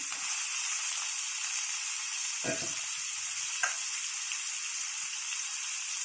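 Drained beans sizzle and fry in a pan for a tomato curry, a steady bright hiss with a couple of soft stirring scrapes, close and alone without talk.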